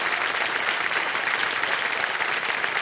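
Studio audience applause on a televised quiz show, a steady wash of clapping from a crowd welcoming a guest, continuous and even throughout.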